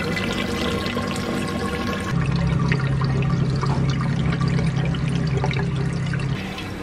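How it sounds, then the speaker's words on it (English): A pump pours water into an above-ground garden pond built as an aquarium, a steady loud splashing rush that deepens and thickens partway through and continues without pause. "We've got the pump going, water coming in."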